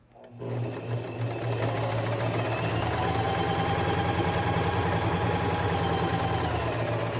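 Singer Tradition 2263 sewing machine running steadily after the pedal is pressed, a close, even mechanical whir with fast rhythmic needle chatter that continues without break.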